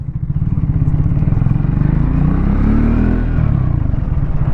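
Cruiser motorcycle riding along a city road, its engine close and loud with a steady pulsing throb and a slight rise and fall in revs, no speech over it.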